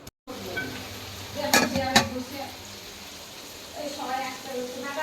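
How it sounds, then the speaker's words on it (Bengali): Chicken cooking in a pan, with a steady sizzle and frying hiss, a few stirring scrapes and clinks of utensils against the pan, and a brief burst of stirring in the middle. A voice talks faintly in the background. "এদিকে চিকেনটা রান্না হচ্ছে"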